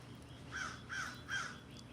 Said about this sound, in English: Listen for a second. Tell me if you hear the birds.